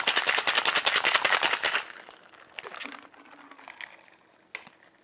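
Cocktail shaker rattling ice while a whiskey sour is shaken, a quick rhythmic clatter for about two seconds, then quieter clinks and pouring sounds follow.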